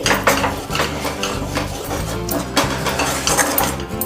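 A spoon works kaju barfi mixture around a hot pan off the heat, producing continuous close scraping and clinking with a steady low hum underneath and no talking.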